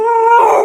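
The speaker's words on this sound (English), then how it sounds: "What a dramatic dog." A dog named Bubbles lets out a single loud, drawn-out howl, a clear tonal wail close by that breaks into a rougher whine near its end.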